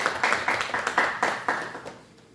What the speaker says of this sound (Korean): 우리 하나님께 감사의 박수와 말씀 드리겠습니다